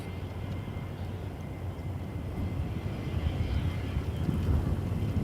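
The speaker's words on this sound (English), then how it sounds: "There is a Gulfstream, which is cleared for takeoff." Gulfstream jet taking off from runway 23 at Toronto Pearson Airport, a steady, broad low roar of engine and rushing air that swells slightly louder toward the end, heard from a distance with wind buffeting the microphone.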